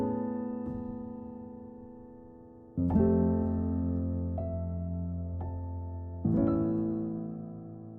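A sustained, consonant ending chord from the final chapter of the video game Celeste rings out, struck anew twice with fresh swells that slowly fade, alone with no voices.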